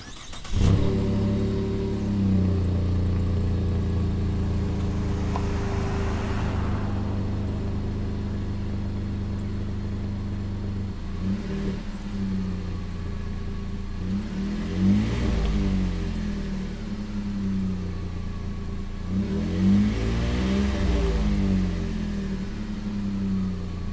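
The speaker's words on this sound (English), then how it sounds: "let me let you hear how this thing sounds with this exhaust system" A Chevrolet Colorado pickup truck engine with an MBRP aftermarket exhaust idles with a deep, throaty exhaust note, then revs up several times in short bursts before settling back to idle.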